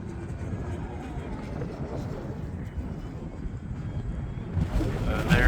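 Strong wind buffets the microphone at an RC model plane flying field in a constant low roar, gusting harder toward the end.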